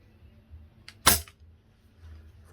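A single crisp, close shot from an Ares Mauser Kar98k airsoft rifle loaded with .2 gram BBs, a quick snap against a quiet background.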